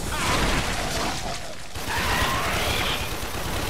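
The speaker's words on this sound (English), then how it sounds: "People are shooting at me." Dense, continuous gunfire in the sci-fi shooter Warframe, a steady wash of shots and mechanical clatter filling the whole stretch with a brief dip midway, loud and close with no clear talk over it.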